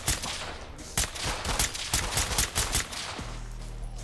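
Rapid bursts of gunfire fill a tense SWAT firefight in the tactical shooter Ready or Not, with close, loud volleys and overlapping shots cracking repeatedly before a lower rumble takes over near the end.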